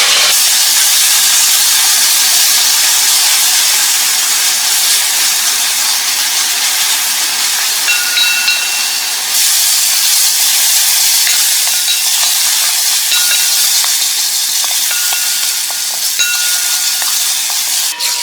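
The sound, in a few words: onions frying in a pan until golden brown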